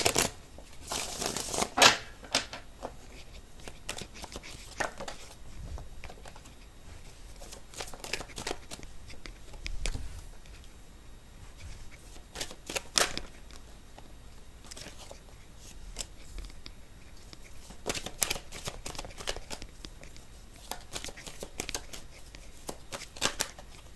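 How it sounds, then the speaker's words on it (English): Tarot cards shuffled by hand during a love and relationship reading, giving repeated soft riffling and flicking bursts with short pauses between them, fairly close and quiet, with no voice. "While I was shuffling"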